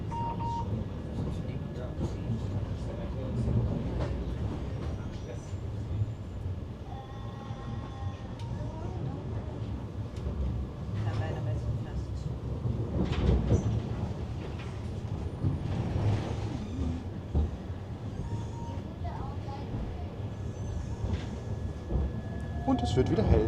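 A tram rumbles and clatters along its tracks while passing through a building, steady low noise with occasional squeals and rattles, as a voice talks intermittently over it.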